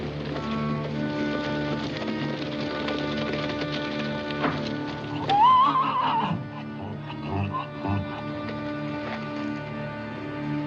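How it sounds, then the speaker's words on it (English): Horses being moved into a corral by soldiers, with clopping hooves and a brief rising whinny around the middle, heard over steady rain and a sustained music-like tonal background. "get the horses into the corral."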